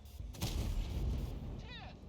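Tank cannon fire in World of Tanks gameplay: a booming shot with a rumbling low tail, followed later by a shorter whooshing shell sound, with someone talking over it.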